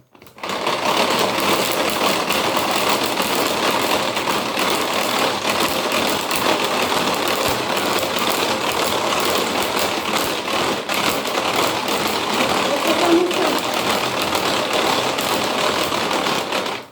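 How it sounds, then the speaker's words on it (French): A Speedy Chef mixer runs steadily on speed 1, whipping coffee, sugar and water into a dalgona mixture with a continuous, fairly loud whirring hum and faint rattling throughout, with no voices. "je vais mettre avec le Speedy Chef 1. Donc le café, le sucre et l'eau."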